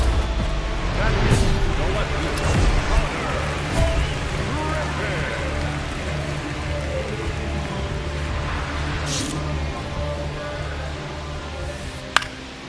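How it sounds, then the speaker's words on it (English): Steady rain falls over a stadium in the baseball video game MLB The Show 26, a constant hissing wash heard under ongoing commentary. "This rain is not letting up."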